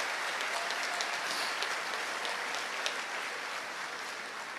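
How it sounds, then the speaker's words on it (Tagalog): Audience applause at a national convention, a continuous even wash of many people clapping at moderate level that holds steady throughout with no break or speech. "palakpak kayo ng palakpak"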